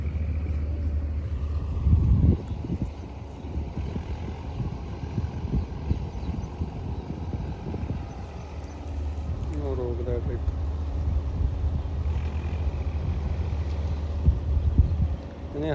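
A steady low engine rumble runs throughout from a tractor working a rotavator in a field, with a voice speaking over it at times.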